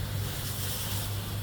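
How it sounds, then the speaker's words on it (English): Steady wind buffets the microphone outdoors during a car engine bay respray, a continuous low roar and rumble with broadband hiss, no voices. "it's pretty windy today"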